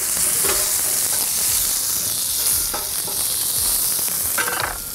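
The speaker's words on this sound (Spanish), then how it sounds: "lo que hago yo es tirar toda la verdura junta para bajar un poco la temperatura" Mixed vegetables sizzle loudly in a hot pan with oil, a constant close frying hiss broken by a few scraping stirs.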